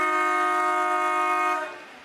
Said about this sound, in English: The siren beat everyone to it, Gray.